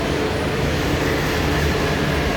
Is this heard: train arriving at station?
yes